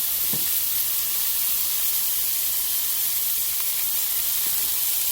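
Grapeseed oil sizzles in a hot pan while fish fries, a steady close hiss with a couple of faint clicks and no talking.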